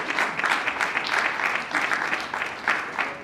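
An audience at a civil wedding ceremony applauds the civil registrar: steady, dense clapping from a room full of people, lively and sustained throughout with slight swells in intensity.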